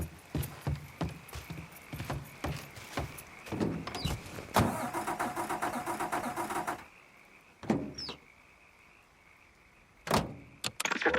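A car engine starting in the Mafia III: Definitive Edition video game, with clicks and door thuds before the engine catches and runs briefly, then quieter knocks and another sharp thud near the end.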